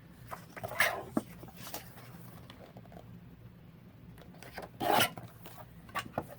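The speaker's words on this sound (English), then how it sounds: "so we're going to cut 1 inch off of the bottom" Scissors cut through a paper tag, trimming a one-inch strip from the bottom in two short, quiet rasping bursts in an otherwise quiet room.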